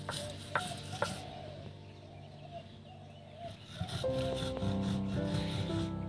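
Roasted spices being ground by hand on a sil grinding stone for chana chaat, a steady scraping rub of stone on stone with a few sharper knocks, moderately close, with a low hum in the background and no talk.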